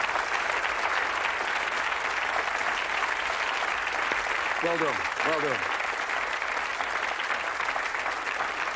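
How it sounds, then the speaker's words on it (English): Studio audience applause on a UK Bullseye game-show set, a dense steady roar of clapping filling the whole stretch, with someone briefly speaking over it. "Give him a nice round of applause."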